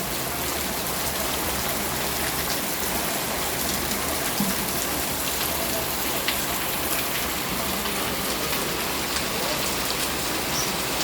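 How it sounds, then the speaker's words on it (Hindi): Heavy rain pours down steadily in Duki, Pakistan, a dense, unbroken roar of drops hitting surfaces close by, with no voices. "बहुत ज़बरदस्त बारिश शुरू है, बिल्कुल ओरिजिनल बारिश।"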